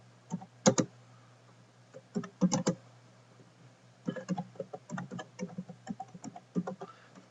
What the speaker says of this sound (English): you can type a description of the file